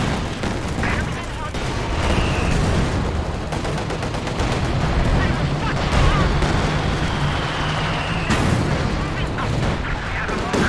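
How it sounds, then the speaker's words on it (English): Airstrike explosions in the World War II strategy game Company of Heroes 2, with rumbling blasts and crackling gunfire rolling continuously under dense battle noise. "Airstrike has been authorized."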